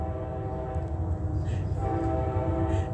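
A passing train rumbles loudly and steadily while its horn sounds in sustained tonal blasts over the rolling noise, with a faint voice briefly audible.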